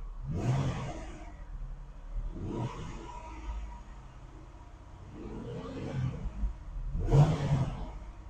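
A car engine revs up in four separate surges, each rising roar fading back to a low idle rumble, heard from close by with no talking.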